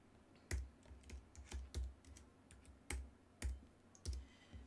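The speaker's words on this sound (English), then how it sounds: "So I'm just going to enter my system password." A Mac computer keyboard is used to type a system password: about a dozen soft, close key clicks, uneven but steady in pace, against quiet room noise with no talking.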